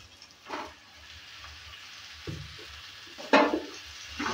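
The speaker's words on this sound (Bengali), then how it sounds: "শাকটা দেওয়ার পরও নেড়ে চেড়ে দিচ্ছি" Chopped potato leaves and partly cooked potato sizzle quietly in a pan, interrupted by a few short bursts of scraping and tossing as the greens are stirred, with quiet gaps between.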